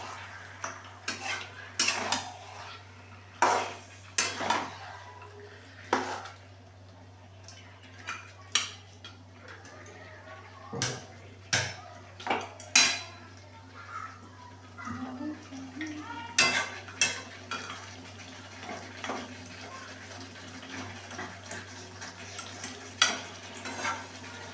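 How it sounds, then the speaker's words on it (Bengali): Bengali-style mutton being stirred in a pan, a spoon scraping and knocking against the metal in irregular bursts, with a faint low hum steady underneath throughout. "ভালো করে নাড়ি চাড়ি।"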